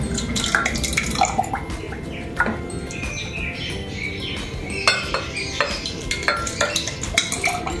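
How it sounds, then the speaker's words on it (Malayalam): Milk poured over a layered avil milk mix of banana and beaten rice in a kitchen, with clinking glass and utensil sounds and a steady liquid trickle, no one speaking. "ഞാൻ ഈ പാല് ഇതിലോട്ട് ഒഴിച്ചു കൊടുക്കുവാണേ"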